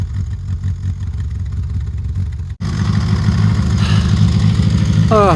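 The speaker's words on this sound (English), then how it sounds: "I've gotten the engine going again, but as you can see, it's not entirely happy." A narrowboat engine chugs loudly and steadily on the River Thames, running a little unevenly, with a brief dropout partway through before it carries on.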